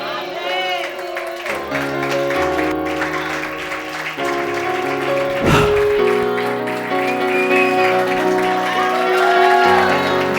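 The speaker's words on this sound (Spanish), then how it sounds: "Está bien que aplaudieron más" Congregation applauding during a church service, a broad, steady wash of clapping mixed with shouts, cheers and whoops, under sustained organ-like music and voices, loud throughout.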